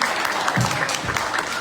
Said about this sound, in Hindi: गुरुदेव भगवान का तालियों से अभिनंदन करते हैं।